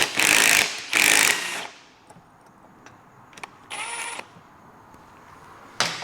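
Electric impact wrench on 13 mm shock nuts of a Vespa GTS scooter: two loud hammering bursts close together, then a quiet gap, a shorter burst with a high whine, and a final burst starting at the end.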